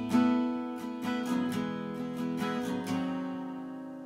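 An acoustic guitar strums the intro chords of a song, with several clear strums ringing out and decaying, close and alone, without talk.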